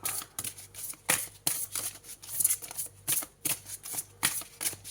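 Tarot cards are shuffled by hand before one is drawn, a close, crisp riffling and flicking in repeated short bursts with brief pauses between them, alone without talk.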